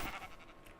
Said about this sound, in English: Mountain sheep.